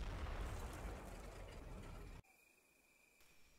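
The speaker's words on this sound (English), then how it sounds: "and enemy artillery comes into play" Enemy artillery fire in the Combat Mission Fortress Italy war game: a loud, dense rumbling roar for about two seconds that cuts off abruptly into near silence with a faint steady tone.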